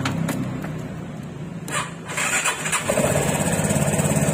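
An engine is cranked with the starter on a 12-volt battery and charging system being tested, a churning whir at first, then catching and running with a steady idle close by.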